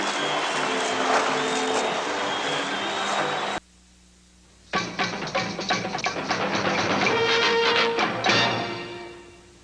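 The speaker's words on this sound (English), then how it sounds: "They're getting a good round of applause from their own booster club" Booster club fans from Charlestown applaud as a hockey team takes the ice at a Peterborough rink, steady clapping and crowd noise filling the arena, then a brief lull before a second louder burst of applause swells and fades.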